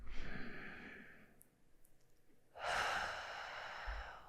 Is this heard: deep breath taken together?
yes